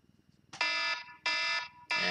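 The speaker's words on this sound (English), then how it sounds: "And my alarm is going off" An alarm goes off in a room, three loud repeated electronic beeps in a steady on-off rhythm, following a faint low ticking pulse.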